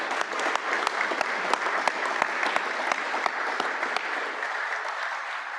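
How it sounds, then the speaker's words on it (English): Steady audience applause fills a House of Delegates meeting hall, many hands clapping evenly and continuously at moderate distance with no talking. "So I'd like to give them a round of applause in my closing."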